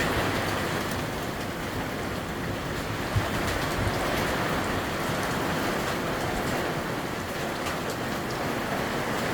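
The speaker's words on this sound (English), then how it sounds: "Daytona Beach, very heavy rains going on here." Heavy rain pours at Daytona Beach beside a marina, a dense, steady, loud hiss with no breaks and no voices.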